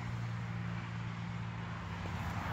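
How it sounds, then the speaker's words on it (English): Low, steady road traffic rumble drones continuously in the background at a boat storage area, fairly quiet and unbroken, with no voices. "I apologize for the traffic noise."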